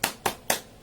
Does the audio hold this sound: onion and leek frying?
no